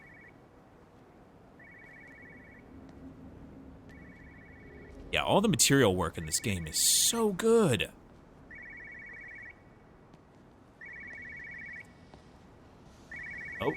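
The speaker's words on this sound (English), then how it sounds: "I hear a phone." A telephone rings in the video game Everybody's Gone to the Rapture, with short electronic rings repeating at an even pace. Someone talks briefly over them partway through.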